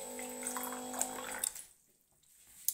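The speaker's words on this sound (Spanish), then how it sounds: "voy a poner un poquito de agua" A little water is poured, a steady splashing trickle with light drips that stops abruptly partway through, leaving near silence broken by a couple of faint drips.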